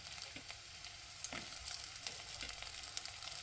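Crushed garlic, small shallots and slit green chilies frying in a pan for a fish curry, a faint steady sizzle with soft stirring scrapes.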